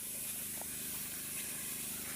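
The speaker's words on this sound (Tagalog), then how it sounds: "Tayo nag-i-spray ng mangga ka-farmer." A continuous pressurized hiss of a sprayer misting mango trees, steady and fairly close with a faint engine drone beneath and no talking.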